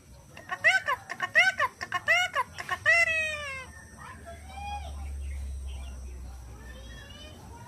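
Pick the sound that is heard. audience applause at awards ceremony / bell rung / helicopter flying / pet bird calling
pet bird calling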